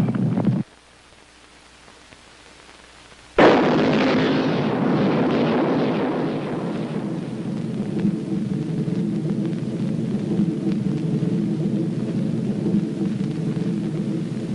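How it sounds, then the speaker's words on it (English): An antimatter bomb detonating in a 1978 science-fiction film: a sudden, huge blast after a short near-silence, then a long, deep, steady rumbling roar that continues to the end. "The United States decided to use its new antimatter bomb."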